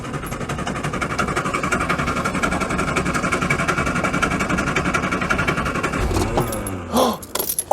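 Classic Mini Clubman engine running on choke after a long idle, a loud, close, steady buzzing drone that holds evenly, then cuts to clanks and handling noise near the end.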